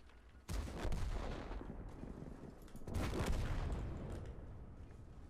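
Two heavy tank cannon shots in a tank battle video game, each a sudden booming blast with a long rumbling tail, spaced a couple of seconds apart.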